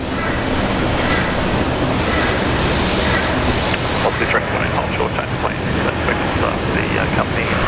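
A jet airliner departing Brisbane airport roars loudly and continuously, a dense broadband engine rush that holds steady throughout with no talk over it.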